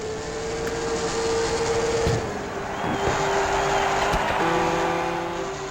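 An Audi race car engine in the Sega Dreamcast game Test Drive Le Mans drones steadily at a sustained high pitch, shifting slightly between gears, over a continuous background roar.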